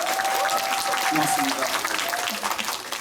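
A cinema audience at a Korean film talk event applauds, steady clapping from many hands heard under someone speaking briefly over it.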